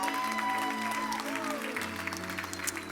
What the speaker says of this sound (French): Est-ce qu'on peut applaudir bien fort le Seigneur, bien plus fort que ça, s'il vous plaît?